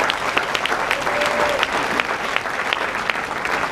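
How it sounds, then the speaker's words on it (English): A crowd breaks into steady, enthusiastic applause, with many hands clapping together at once. "So give them another round of applause,"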